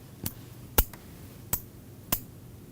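Sharp, crisp clicks from a switch lever snap at irregular intervals, five distinct clicks close up over a quiet background hum.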